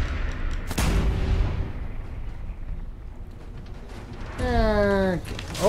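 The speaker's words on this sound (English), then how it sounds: "Shoot her again" Gunfire in Fallout 4's Automatron add-on, a single heavy boom followed by a long rumbling decay, then a whining mechanical tone rising near the end.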